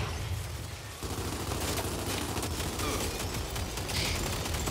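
Gunfire in the Gears of War 4 video game rattles in a dense, continuous barrage as enemy blisters are shot, with heavy low rumble throughout the clip.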